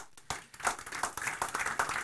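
Audience at a German celebrity talk show in Dinslaken claps, starting with a few scattered claps that build into a brief, fuller round of applause.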